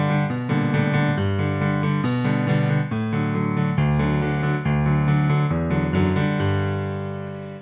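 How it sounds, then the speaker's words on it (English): Piano chords layered over a walking bass line, a full two-handed texture of rhythmic comping in a New Orleans style, loud and close throughout, fading on the final chord. "Then an accompaniment with some chords over the top of it,"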